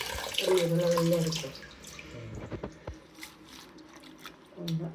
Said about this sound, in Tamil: ஒரு பேஷனில் தண்ணி போட்டு அதிலிருந்து பிழிஞ்சு எடுத்து இந்த தண்ணியில் போடுங்க